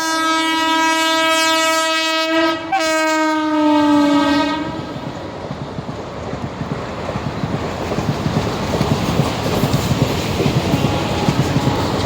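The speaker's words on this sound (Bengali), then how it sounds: "দেখো ট্রেন আসতে আছে।" A train horn sounds loud and sustained for about four seconds, its pitch dropping as the train passes close by, followed by the steady rumble and clatter of rail cars rolling past outdoors near water.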